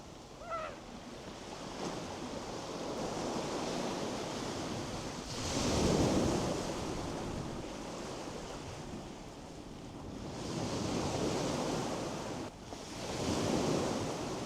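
Sea waves breaking on a coast in March, broad surging washes that swell and recede every few seconds, mixed with wind rushing across the microphone, with no voices.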